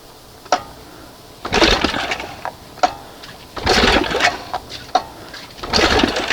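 A 1971 Johnson 20 HP outboard motor runs on only one cylinder, sputtering in uneven, loud bursts broken by sharp pops and brief quieter gaps, heard close by.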